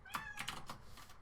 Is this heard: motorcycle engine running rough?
no